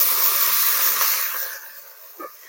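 Water poured into a hot pan of frying shaluk (water lily) stalks with spices, a loud sizzling hiss that bursts at once and gradually dies away, alone with no voices.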